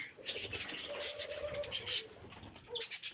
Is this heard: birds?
yes